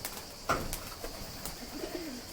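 Soft pigeon cooing in a quiet outdoor space, with a few faint low coos and a brief rustle or flutter.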